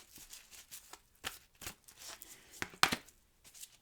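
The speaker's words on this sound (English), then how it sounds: "I'm going to shuffle and deal you an Angel Oracle card." Angel Oracle cards are shuffled in a series of quick, crisp riffles and flicks, close and fairly quiet, with short pauses between bursts.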